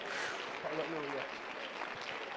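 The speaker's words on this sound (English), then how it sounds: "All right, clap your hands to the Lord if you believe it," A church conference audience claps their hands together during worship, a dense steady wash of clapping lasting throughout, with a voice singing or calling out over it.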